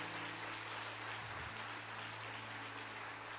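A church congregation claps at a sermon, a faint, distant and steady spread of applause under a low electrical hum, with no voices standing out.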